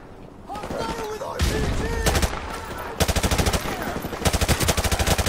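Enemy gunfire in a Modern Warfare Remastered campaign mission, with loud, close rapid-fire automatic bursts that rattle in quick pulses and grow denser toward the end, amid game sounds and some voices.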